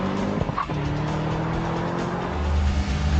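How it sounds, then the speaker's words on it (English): Chevrolet Camaro V8 muscle car launching hard down a quarter-mile drag strip, a loud sustained engine roar with brief tire squeal near the start, steady and close throughout. "The Camaro is also remarkably easy to launch hard and turns in a blistering quarter-mile run of 13 seconds flat"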